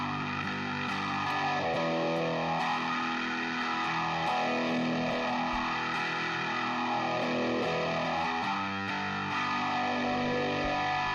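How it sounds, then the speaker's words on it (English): Guitar played through a phaser pedal with distortion switched on, a loud, dense, sustained tone sweeping slowly up and down in steady whooshing cycles, with occasional pick attacks and no talking. "let's kick on the distortion and just bring it"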